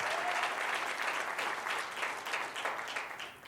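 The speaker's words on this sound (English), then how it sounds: "let's give him a round of applause" An audience at a debate event applauds steadily, dense clapping sustained throughout and tapering slightly near the end, with no voices over it.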